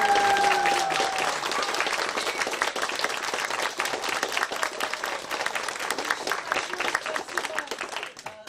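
Audience applause fills a theatre after a New Year's fairy-tale stage show, sustained dense clapping from a crowd that starts over a fading tone and continues steadily throughout.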